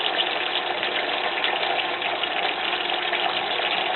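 Balsamic vinegar poured into a pan while cooking pork chops with a savory cranberry sauce, a steady sizzling, hissing wash that stays loud and even throughout with no talking.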